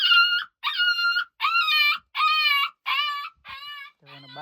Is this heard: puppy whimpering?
yes